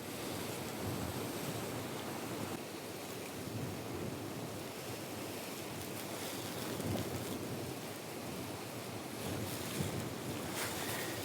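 Wind gusts and buffets outdoors on a shore while spinning for perch, a continuous rough rush with occasional stronger bursts, faint and distant, with no talking.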